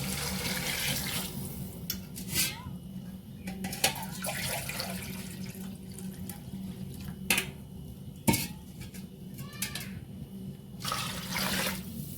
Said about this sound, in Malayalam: ഒന്നര പാത്രം വെള്ളം ഒഴിക്കുക